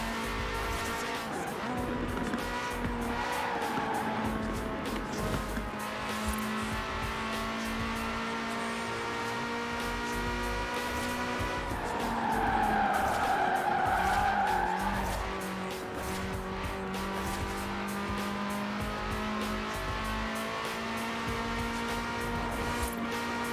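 A car drifts and does stunt driving in the racing game Forza Horizon 4, with a revving engine and long, loud tire squeals that rise and fall over a steady motor drone.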